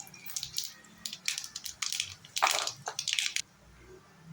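Mustard seeds hit hot oil for tempering and give off quick, irregular crackles and sharp pops that come close together for a few seconds, then stop.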